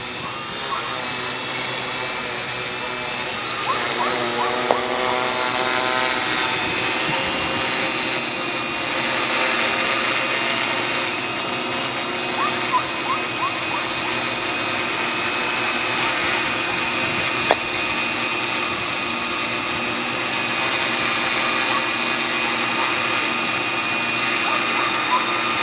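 A stretched HK X650F multirotor drone hovers in position hold, its motors giving a steady whining buzz throughout, with wind rumble and someone talking over it at times.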